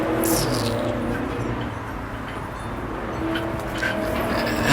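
Noisy cars drive by on a road in a steady stream of traffic rumble and swishing, loud and continuous with no talk.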